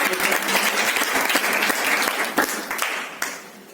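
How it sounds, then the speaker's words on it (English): An audience at a satsang gives a round of applause, full and lively clapping from many hands that runs strong and fairly loud, thinning toward the end with a few last scattered claps. "Please give you a round of applause"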